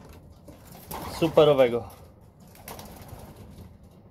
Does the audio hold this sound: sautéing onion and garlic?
no